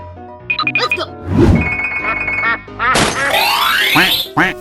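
A giant duck quacks in a video game, with a quick series of cartoonish quacks mixed with thunks, boings and bright jingling game effects. The sounds are loud, busy and close.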